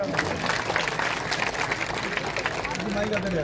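Crowd applause fills a college courtyard during a welcome ceremony for an education minister at Dubaldhan College: steady dense clapping throughout, with a voice talking over it.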